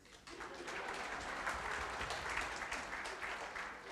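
A crowd applauds steadily, a dense wash of clapping that swells quickly and holds for a few seconds, moderately distant.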